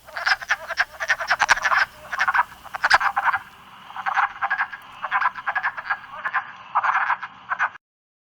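Frogs calling at a vernal pool on a warm spring day, a dense chorus of rapid clacking croaks in repeated bursts with short gaps, fairly close and loud against a faint outdoor background.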